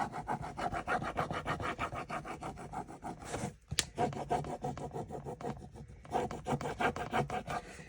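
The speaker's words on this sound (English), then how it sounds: "I like to run over the entire transfer with the transfer stick, holding it down so it doesn't move on you when you're rubbing it." A transfer stick rubs rhythmically back and forth over a transfer laid on vellum, producing a fast, steady scratchy scraping close to the microphone, with one brief pause partway through.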